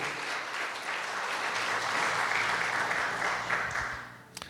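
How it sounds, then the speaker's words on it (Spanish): A church congregation claps steadily and loudly for several seconds, a dense wash of applause that fades slightly toward the end. "Damos un fuerte aplauso al Señor."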